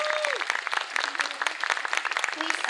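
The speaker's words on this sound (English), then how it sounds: "Let's give a big round of applause to all those whose poems were recited today" Dense, loud applause from an audience at an English poetry recital contest, continuous clapping throughout with a brief voice briefly audible at the start.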